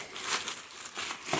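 A plastic bag crinkles in a few quick, close rustling bursts as an electric bike conversion part is unwrapped.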